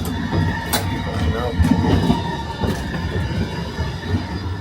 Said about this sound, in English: This is how old this train is, look.